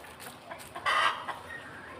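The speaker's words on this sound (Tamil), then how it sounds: "2 முட்டை விட்டுருது. கோழி கத்துது." A hen gives a few short clucks followed by a louder squawking cackle after laying an egg, close by with a quiet outdoor background.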